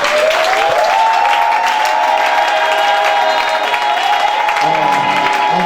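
Congregation applauding and cheering, a dense continuous wash of clapping and crowd noise, with a sustained rising voice or tone ringing over it and music creeping in near the end.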